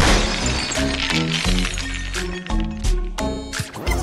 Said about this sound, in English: We smashed our first piggy bank nicely.